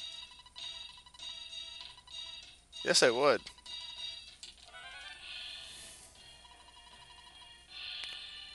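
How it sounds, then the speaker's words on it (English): Phone bird ringing in the Earthbound video game, a short bright warbling electronic ring in one burst among soft game tones, with a voice speaking briefly. "A phone bird."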